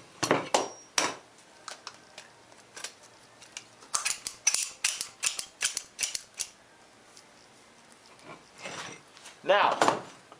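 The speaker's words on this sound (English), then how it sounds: "Start by inserting your tube of silicone into your caulk gun." A silicone tube is pushed into a caulk gun, giving a string of close, loud plastic clicks, clunks and ratcheting snaps in bursts, with a harder rattle near the end and no talking.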